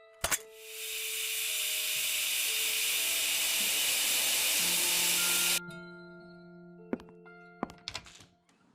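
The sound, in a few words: fire being put out, steam hissing in Desolatium video game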